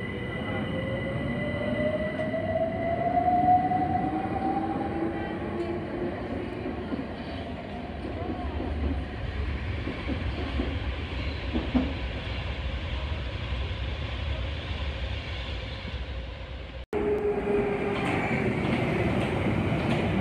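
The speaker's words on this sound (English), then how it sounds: "Now is a London Overground train going to Watford Junction." A London Overground train bound for Watford Junction runs through Kensal Green Station, a loud steady rumble with a rising wheel squeal early on, holding near and continuous for about twenty seconds.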